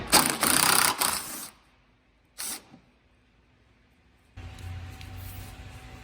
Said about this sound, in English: there's another 10mm bolt that needs to come out